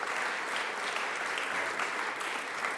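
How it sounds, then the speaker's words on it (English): Steady applause from a press conference audience for a councilwoman at a mayor's announcement of a home repair loan program, dense and even throughout with no voices over it. "Give her a round of applause"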